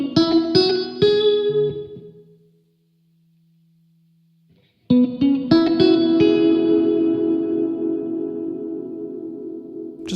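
A guitar played through the Pulsar Primavera spring reverb plugin strikes chords that ring out with a lush, lingering spring tail, fades to near silence, then resumes with a sustained, reverberant decay.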